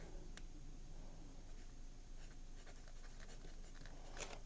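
Fine Jowo number 6 steel nib of a pink and gold fountain pen scratching steadily across paper, a soft continuous scritch with faint strokes and lifts, close and quiet, no talking.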